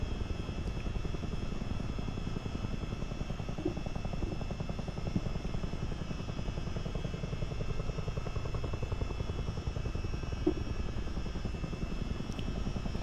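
CH-47D Chinook helicopter in a flight simulator game over London, a continuous rapid rotor thump under a steady engine drone, moderately loud and unbroken throughout.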